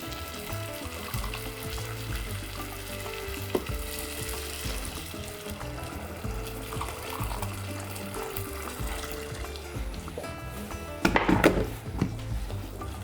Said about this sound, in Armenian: ևս մեկ անգամ խառնենք եւ մարմանդ կրակի վրա եփենք այնքան, մինչեւ հեղուկը քաշվի։